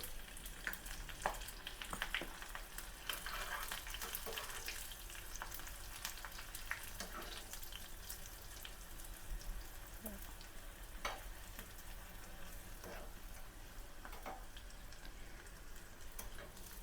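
Mustard seeds, cumin, urad dal, curry leaves and crushed garlic fry in hot oil for a moong dal and bottle gourd curry, giving a faint, continuous close sizzle dotted with soft scattered pops and no talk.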